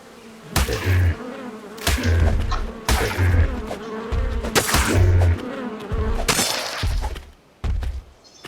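Insects buzz in ARK Survival, with repeated loud bursts of droning buzz about once a second, mixed with thuds and crunching hit sounds from the game, close and busy.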